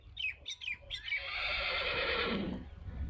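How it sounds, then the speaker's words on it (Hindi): A racing mare at a horse market in rural Pakistan neighs in a long, loud whinny lasting about two seconds, preceded by a few short snorting calls, close by with no talk over it. "ये पिछे घोड़ी बोलती पई है?"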